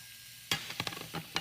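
Stir fry sizzles in a skillet: a soft steady hiss, then a run of sharp clattering scrapes and taps from stirring, close and fairly loud.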